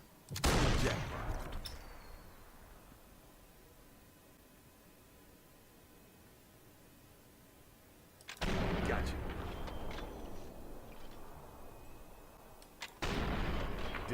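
Sniper rifle shots in the video game Sniper Elite 4: three sharp, loud blasts, one near the start, one around the middle with a long rumbling tail, and a final one at the end, separated by quiet ambient hiss.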